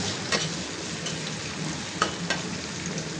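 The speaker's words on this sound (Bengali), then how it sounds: "মিষ্টি কুমড়া কম ভাজি" Pumpkin frying in a little oil, with a close, continuous sizzle and a few sharp stirring scrapes and knocks against the pan, without any talking.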